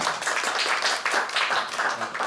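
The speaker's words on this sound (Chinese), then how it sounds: "鼓掌欢迎他们" Audience applause welcoming two speakers at a talk in Taichung, a short burst of dense clapping from a room of people, fairly close and steady.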